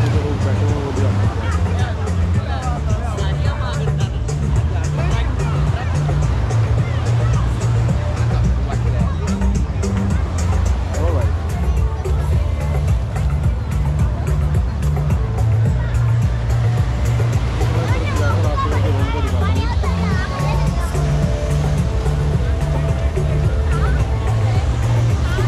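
Steady roar of sea surf breaking on Anjuna Beach in North Goa, continuous and fairly loud, with a crowd murmuring and people talking over it throughout.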